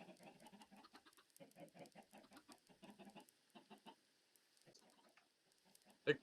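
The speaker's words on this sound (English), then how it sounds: "Right, I'm just getting these chickens in here, all right?" Several chickens in Minecraft cluck in quick irregular bursts at close range, then quieten, ending with one louder abrupt squawk.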